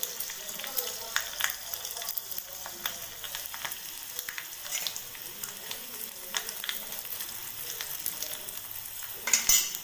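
Chilli sizzles and crackles in hot oil while tempering, a continuous busy frying hiss with scattered pops and the occasional clink of a utensil stirring the pan, heard close up.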